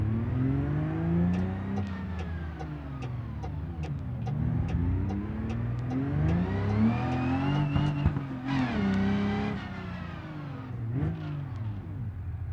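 In BeamNG, a car engine fitted with a new turbo revs up and down through repeated rising and falling pulls, loud and close, with a sharp high-pitched burst midway and no talking.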